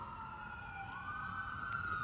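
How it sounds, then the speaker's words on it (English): An emergency siren wails steadily in the distance, a faint continuous rising tone heard alone. "You hear those sirens right now?"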